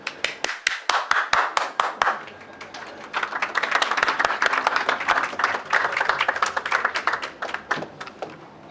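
An audience at a public discussion event claps: a few sharp, isolated handclaps at first, then a fuller burst of applause, tapering back to scattered, separate claps at the end.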